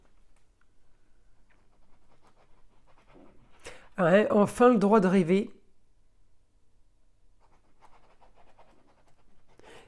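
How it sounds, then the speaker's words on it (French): A dog whines at a door, one wavering, high, pleading whine of about a second and a half, fairly close, with someone speaking quietly before and after it. "Et mon chien qui pleure à la porte."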